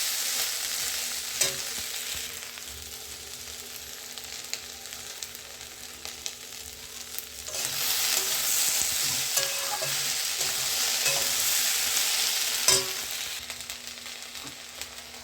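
Kundri and potato fry in a pan with poppy seeds, sizzling steadily, while a spatula scrapes and stirs in repeated close strokes, the sizzle swelling louder partway through.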